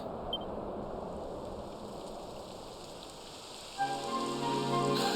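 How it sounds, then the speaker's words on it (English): Soft rain in the video game Dragon Quest 11 patters steadily for several seconds, then a brief electronic tone sounds near the end. "It would have to go and start raining, wouldn't it?"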